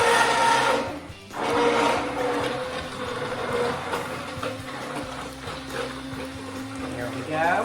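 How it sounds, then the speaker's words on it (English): A blender whirs steadily as it purees leek soup, a continuous close motor drone with slight shifts in pitch and one brief dip, with a person talking over it. "this is blending out some of the roughness"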